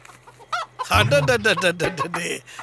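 A chicken clucks close and loud in a rapid run of calls, with a steady low hum in the background.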